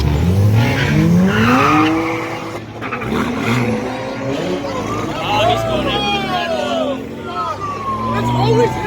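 A car engine revs and tires squeal in rising, sliding tones at a car meet while a crowd chatters and shouts around it, loud and close.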